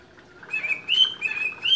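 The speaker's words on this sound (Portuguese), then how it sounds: "Minha calopsita tá aí fazendo zoada." A pet cockatiel calling noisily indoors, a few bright high chirps repeated close by over a quiet background.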